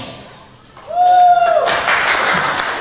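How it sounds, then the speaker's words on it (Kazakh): Guests at a wedding celebration break into a brief burst of clapping. A thin rising whistle-like tone comes just before, and the clapping carries on to the end. "Бүгінгі той егелеріне шапалақ соқшы."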